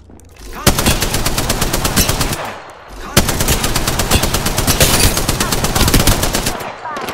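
Sustained automatic gunfire in the video game Apex Legends, two long loud bursts of rapid shots separated by a brief lull near the start and midway, close and dense.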